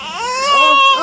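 An infant wails in one rising, sustained cry, loud and close, with no other sound around it.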